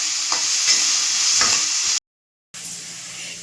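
Curry leaves, shallots and chicken sizzle steadily in hot oil for a chicken thokku, with a few soft stirring scrapes. The frying cuts off abruptly, goes silent for a moment, then resumes more quietly.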